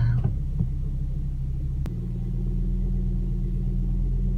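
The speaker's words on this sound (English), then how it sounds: "This car is legitimately struggling." A car engine labors with a deep, heavy rumble as it strains to pull forward, a steady low drone holding on after a sharp knock partway through.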